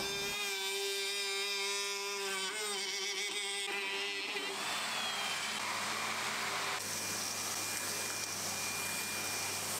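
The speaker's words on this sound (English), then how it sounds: "here I'm routing out a rebate around the inside perimeter using a bearing guided rebate bit" Router with a bearing-guided rebate bit cutting a rebate into plywood in shallow passes, a loud, close, continuous high whine whose pitch shifts and drops as the bit bites into the wood.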